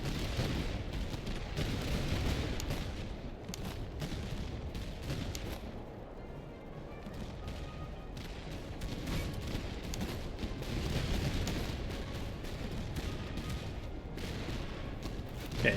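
Distant artillery fire rumbles through a war strategy game battle, a dense, continuous barrage of booms and crackling gunfire with no clear pauses, steady and moderately loud throughout.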